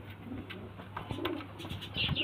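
A male pigeon coos close by in soft, repeated throaty rolls, with faint flutters and no talking.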